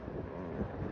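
Strong gusty wind on a rainy city street buffets the microphone with a loud low rumble that fills the whole moment, with no voices.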